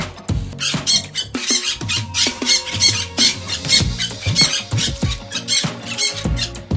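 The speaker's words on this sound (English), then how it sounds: "This is Parrot." Harsh, shrill parrot squawks burst out repeatedly in quick succession, loud and close, over a faint musical background.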